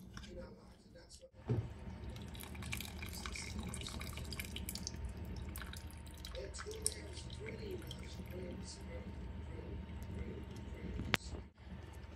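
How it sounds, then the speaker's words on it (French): Boiled nuts for Cameroonian sanga are strained through a sieve in a kitchen, the juice dripping and trickling steadily after a brief clatter, with quiet background noise throughout. "je vais utiliser ceci pour tamiser les noix"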